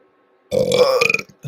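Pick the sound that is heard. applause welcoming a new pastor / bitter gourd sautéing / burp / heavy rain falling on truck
burp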